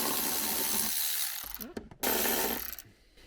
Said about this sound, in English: we're now ready to undo the bolt